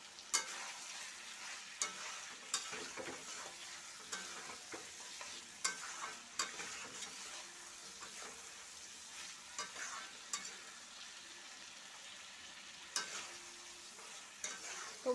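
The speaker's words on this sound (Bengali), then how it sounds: "আর এখানে দেখো মাংসটা আমি খুব ভালো করে কষিয়ে নিচ্ছি।" Meat being stirred and fried down in oil in a pan for a Bengali kosha dish, with a steady soft sizzle and frequent scraping stirs of the spatula; fairly quiet, with no talking.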